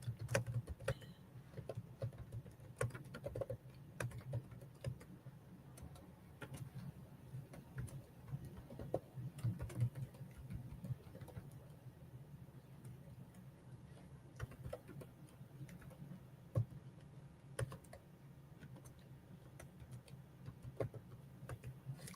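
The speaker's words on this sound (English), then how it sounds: "I'm going to go ahead and I'm going to type in there what this is" Light, quick keyboard clicks from typing on a computer keyboard, faint and close, in a steady irregular patter throughout with no talking.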